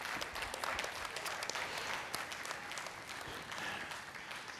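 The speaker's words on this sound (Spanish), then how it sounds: "Dale un aplauso al Señor en esta mañana." A church congregation claps steadily for the Lord during a morning service, a dense, even wash of many hands heard from a distance, with no speech over it.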